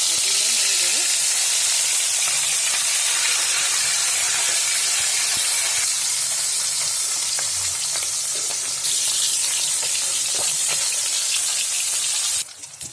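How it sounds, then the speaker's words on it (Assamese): Fish frying in hot oil in a wok produces a loud, continuous hissing sizzle close up, steady throughout with faint stirring ticks, cutting off abruptly at the end. "তেল গৰম হৈছে, আৰু এতিয়া মই মাছখিনি ইয়াত ভাজি ল'ম এনেদৰে।"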